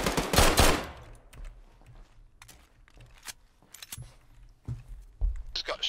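Gunfire in the military shooter ArmA 3: a loud close burst at the start, then scattered sharper shots near and far, with a few more cracks toward the end.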